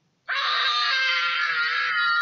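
A sustained, high-pitched scream imitating the young boy's famous shriek from Home Alone, voiced loud and alone for about two seconds with no talk.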